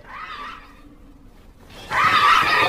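A woman screams hysterically as a pig suddenly appears from the direction of a barn, a loud shrill cry bursting out near the end after a fainter earlier cry and a quiet pause.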